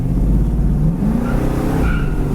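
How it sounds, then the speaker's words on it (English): A 1969 Mercury Cougar with disc brakes stopping hard, a loud steady engine and road rumble with a faint tire scrub near the end, close and continuous with no talk. "We're gonna hit the brakes quick here."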